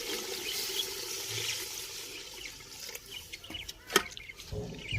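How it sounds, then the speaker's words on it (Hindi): Water poured into a pot of chicken and potato curry, a gurgling trickle with a few clinks of the vessel, fairly faint and without speech. "तो अब इसमें पानी शामिल कर लें। 1 लीटर में पानी डालूंगा इसमें।"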